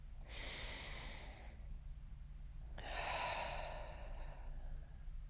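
Deep breathing during a seated yoga practice: a long, airy inhale swells early and fades, then after a short pause a fuller, louder exhale follows, breathy and close with a faint low hum beneath.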